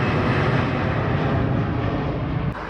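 A Virgin Atlantic airliner taking off near Heathrow produces a loud, steady roar of jet engine noise filling the whole clip, broad and rumbling without voices.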